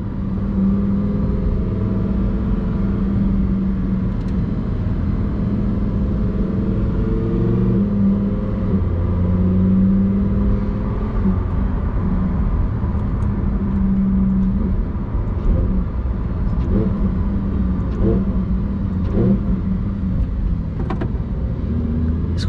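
A Lamborghini Huracan STO engine accelerating, a steady loud drone with rising and falling harmonic tones as the car gains speed, continuous and close throughout.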